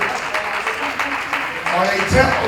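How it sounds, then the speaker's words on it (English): Audience applause and a standing ovation for a panel at a Juneteenth special event, a dense, steady clatter of many hands with voices over it and a fuller swell near the end. "let's give our panelists a round of applause"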